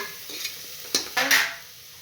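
Spices sizzle in a pan for dal khichdi over lowered gas heat, with a soft steady frying hiss and a few scraping stirs of a spoon standing out close by.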